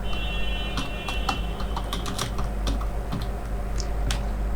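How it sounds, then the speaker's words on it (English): Typing on a computer keyboard at a desk: a run of quick, irregular key clicks, close and crisp, over a low steady background hum. "You can just type here GitHub"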